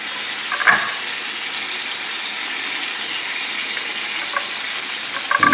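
Pork loin chops cooking in salsa in a pan, a steady, loud, hissing sizzle and bubble that runs throughout, with a few brief clatters at the start and end.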